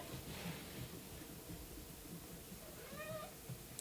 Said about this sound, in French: Ah, caméo du chat.